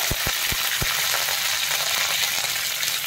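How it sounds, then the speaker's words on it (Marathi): Curry leaves hitting hot oil for a drumstick amti, a loud dense crackling sizzle that stays constant throughout, with a few low thumps at the start. "नंतर कढीपत्ता टाकूया"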